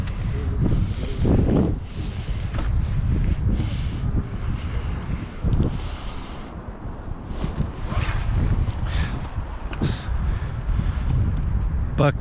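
Strong wind buffets the microphone in heavy roaring gusts while sabiki-rig fishing, with rumbling low noise and occasional rushes of water-like wash.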